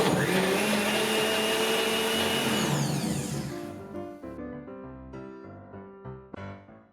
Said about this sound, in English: Put the cap back on and give it another good blend.